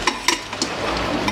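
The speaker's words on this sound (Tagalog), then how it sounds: "So, ganito lang kami magtakip dito ng pressure cooker." Metal lid fitted onto a pressure cooker in a home kitchen, giving a few sharp clinks and scrapes of metal on metal close by, then a softer rustle.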